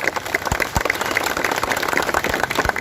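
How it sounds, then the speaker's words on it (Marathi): A crowd at a Hindu community rally in Wada claps together in a brief burst of applause, close and moderately loud, with rapid, irregular hand claps filling the moment. "जोरात टाळ्या वाजवा"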